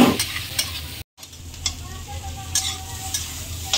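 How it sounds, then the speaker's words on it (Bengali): Soybean chunks and potatoes drop into spices frying in a pan and sizzle, a constant hissing crackle broken by a short gap and then scraping stirs with a spoon. "এবারে এই যে সবিন আর আলুটা ঢেলে দেবো।"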